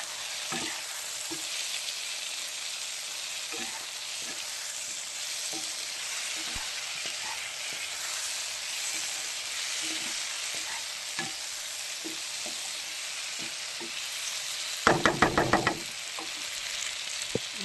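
Ground spices, coriander and chili powder, sauté in a pan with a constant close hiss of frying, broken by scattered soft clicks of stirring and a short cluster of louder scraping near the end, with no voices.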